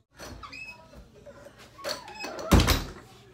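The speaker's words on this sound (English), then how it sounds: "Open the door. It's not locked." Indoors, a door is handled with a few scrapes and a squeak, ending in a loud close thunk at the end; the room is otherwise quiet.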